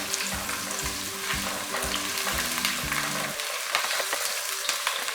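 Ginger and green chillies frying with onions in a pan for an aloo matar gajar mixed vegetable dish, a steady loud sizzle with low clattering stirs early on, close and unbroken, no voices.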